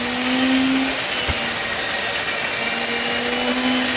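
An electric meat chopper and grinder runs at a steady, loud whir, its motor tone holding nearly constant with a brief thump partway through and no talking.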